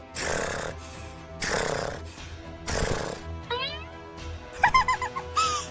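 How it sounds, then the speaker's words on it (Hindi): Loud, rasping snoring from a woman comes in long repeated breaths, followed by squeaky whining and snorting sounds near the close, with no speech. "ये बड़की जीजी खर्राटा ले तो बाटे के बाइक घुरघुरावता है हो।"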